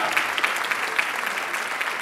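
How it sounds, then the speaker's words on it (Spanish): Sustained audience applause for Grupo Mastia at a festive gala in Caravaca, Murcia, a dense, steady wash of many hands clapping close by with no voices over it. "un fuerte aplauso para el Grupo Mastia que está con nosotros"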